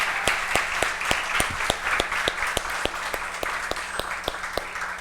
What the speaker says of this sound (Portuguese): eu queria que todo mundo aplaudisse, em nome de Jesus, essas pessoas